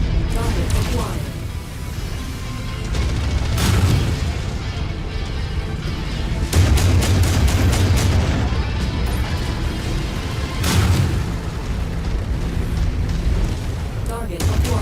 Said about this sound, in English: Raptor unit receiving heavy fire